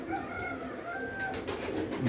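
Pigeons in a loft coo softly and steadily at close range, with low throaty calls repeating over a faint background of shuffling and birdsong.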